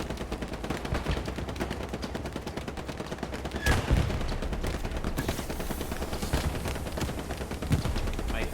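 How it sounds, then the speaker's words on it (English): Sustained machine gun fire in the WW2 shooter Hell Let Loose, a rapid, steady rattle of rounds running throughout, punctuated by a couple of louder nearby bangs, with faint speech in the background. "That's a lot of machine gun rounds."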